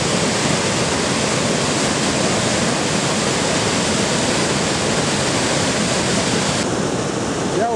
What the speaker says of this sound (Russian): Здесь мы будем прощаться с водопадом.